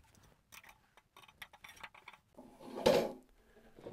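Steel pipe nipples with caps, three feet long and three-quarter inch, slide through a squat foot plate: soft metallic scrapes and ticks, then one louder clanking knock near the end, close by.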